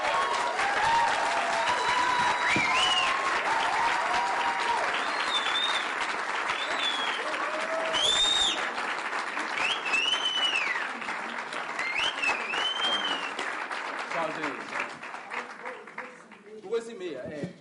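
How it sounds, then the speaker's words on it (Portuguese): Standing ovation for a singer at the opening of a congressional seminar, sustained crowd applause with cheers and whoops over it, tapering off toward the end. "quero que vocês, os que resistiram à fome, aplaudam de pé essa mulher"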